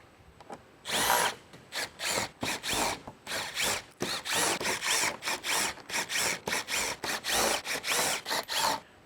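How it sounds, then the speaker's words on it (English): A power tool zips out the 7mm bolts around the front chin spoiler of a 2024+ Mustang GT, in repeated close, loud whirring bursts separated by short pauses, with no talking. "Once you remove the 12 7mm bolts from the front chin spoiler"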